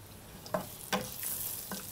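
Chopped onions hitting hot mustard oil with dried chillies in a pan, giving a soft, steady sizzle with a few brief stirring scrapes and clatters, faint and close, no talk.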